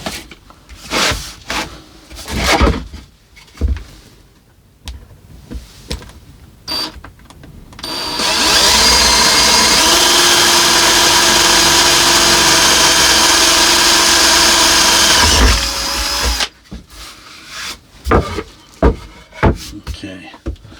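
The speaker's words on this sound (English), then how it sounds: "I'm going to drill a hole through here with a kind of biggish drill bit." Power drill with a biggish bit boring a hole through a wooden chopping board, a steady loud whine and grind lasting about eight seconds, with handling clatter and knocks before and after.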